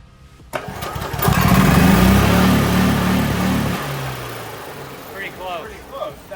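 A gasoline golf cart engine, fitted with a tachometer, revs up hard to around 3,000 RPM, holds a loud, rough roar for a few seconds, then abruptly drops back to idle, with faint voices near the end.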